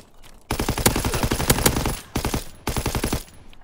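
Rapid automatic gunfire in a Call of Duty WW2 multiplayer match, three close, loud bursts of rattling shots with short pauses between them.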